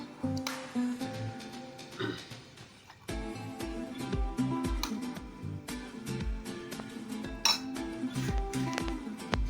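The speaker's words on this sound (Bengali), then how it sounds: "এখন মাখাবো একটু চটপটি।" Chatpati is mixed with cucumber, lemon, cumin powder, black salt and plain salt in a bowl, giving quiet, steady clinking and scraping of a spoon against the dish, close up.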